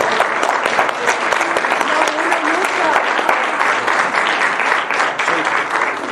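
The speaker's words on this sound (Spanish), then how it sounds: "Pues denle un aplauso." Audience applause fills a training workshop on anesthesiology and patient safety, a dense, steady clatter of many hands clapping close by for about six seconds with no break.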